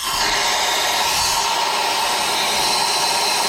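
Compressed air blasting loudly and steadily into the spark plug area of a 2004 Toyota Tarago engine during a rocker cover gasket replacement, a continuous broadband hiss with no talk.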